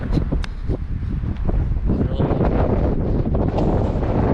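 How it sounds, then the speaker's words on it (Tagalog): Steady, loud mountain wind on Solsona Apayao Road buffeting the microphone, a continuous low rumble with gusty bursts throughout. "Malakas yung hangin."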